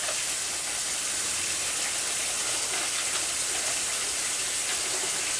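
Hot water runs from a kitchen tap during cooking, a steady, close, even rushing hiss that continues unbroken without any talk over it.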